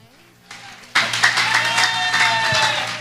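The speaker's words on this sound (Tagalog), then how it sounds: "Lahat po tayo pumalakpak." A church congregation bursts into applause, a loud, dense wash of clapping from a large crowd that swells suddenly and holds steady, with a low hum running underneath.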